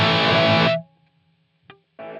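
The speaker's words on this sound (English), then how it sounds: "you're going to hear a very abrupt stop to both the decay of the reverb" Distorted electric guitar chord through a Line 6 Helix, its delay and reverb tails chopped off abruptly by a snapshot switch, followed by near-silence, a faint click, then a brief chord resuming.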